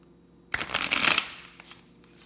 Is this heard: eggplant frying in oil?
no